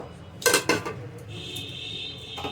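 A metal lid set on a pot of pulao, two quick clanks close by, then a faint lingering ring over quiet kitchen background.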